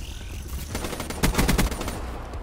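A short cluster of loud, close gunshots in a Call of Duty Black Ops 3 free-for-all match on Nuketown, several sharp cracks in quick succession over a steady game background.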